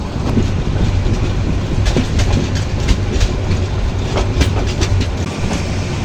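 Indonesian-built passenger train running at good speed on Bangladesh metre-gauge rail, recorded on board with a loud, steady rumble, rhythmic clickety-clack of wheels over rail joints and occasional sharp clanks throughout.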